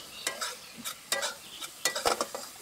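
Spice masala with salt and turmeric being sautéed in a pan, a series of close scraping, stirring strokes with a light sizzle between them, irregular in rhythm and fairly quiet.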